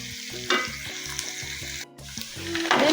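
Onions frying in a pan give a close, crackling sizzle with stirring scrapes, set under rhythmic background music that briefly drops out near the middle.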